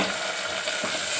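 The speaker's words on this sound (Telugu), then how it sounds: "ఇవన్నీ నూనెలో కొంచెం వేగనియాలి." Coriander, ground masala and tomato fry in hot oil, giving a loud, dense, continuous sizzle heard up close with no talking.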